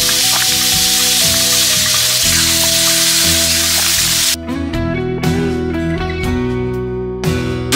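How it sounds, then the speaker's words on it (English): Large seasoned New York strip steaks sizzle loudly in olive oil on a hot Blackstone griddle at a campsite, a steady dense crackle that briefly drops and resumes as the meat settles, with no talk. "A little more of that extra virgin olive oil down with those gigantic New York strip steak seasoning side down."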